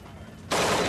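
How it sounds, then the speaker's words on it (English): A burst of M16 rifle fire strikes a cinder block exterior wall, starting suddenly as a dense, loud crackling blast after half a second of quiet room tone. "A burst of M16 fire directed against the cinder block exterior wall from 45 degrees was unable to penetrate the wall"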